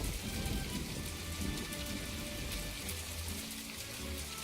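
Steady heavy rain pours down during a thunderstorm while fishing in the video game My Time at Portia, a continuous dense hiss with low rumbling underneath, no voices.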